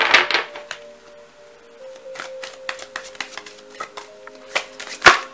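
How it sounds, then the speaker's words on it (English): A deck of tarot cards shuffled by hand, giving soft riffling and papery slaps in irregular bursts, close and fairly loud, with a sharper snap near the end over a faint steady hum. "Let's give it a shuffle."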